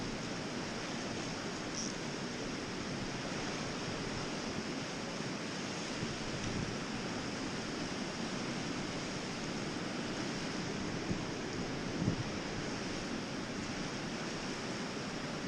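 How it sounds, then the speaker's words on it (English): Wind blows hard during winter fishing in extreme cold, a continuous loud rushing roar that buffets the microphone with only slight swells and no talking. "This wind is hectic."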